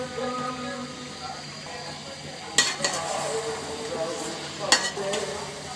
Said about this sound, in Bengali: মাংস মশলা মিশিয়ে নিব